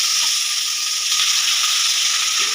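Chopped onion sizzles in hot mustard oil with a loud, steady hiss of frying, close and constant throughout without any talk.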